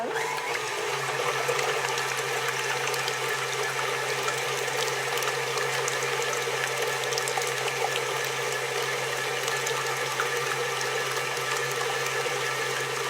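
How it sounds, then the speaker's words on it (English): Three eggs for a pecan pie being mixed, heard as a steady, continuous whirring mechanical drone like a hand mixer, running loud and unbroken throughout with no talk. "So we've got 3 eggs. Okay, we want to mix those."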